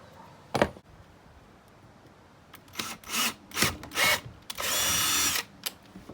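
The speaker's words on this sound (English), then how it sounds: "Of course, we want to drill a small hole." A power drill bores a small hole in a homemade PVC rod holder, short bursts of whirring and grinding that build to a sustained loud run near the end, close by with no talking.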